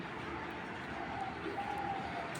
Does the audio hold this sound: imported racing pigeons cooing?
yes